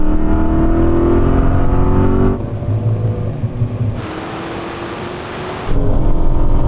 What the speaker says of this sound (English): I got a gearbox kick down.